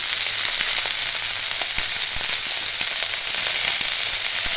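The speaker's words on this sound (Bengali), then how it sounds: "আমি 1 থেকে 2 মিনিট এটা ভালো করে একটু ভেজে নেব ডাঁটাটা দিয়ে" Bottle gourd greens with their stems fry in a pan with a steady, dense sizzle throughout, with faint clicks of stirring.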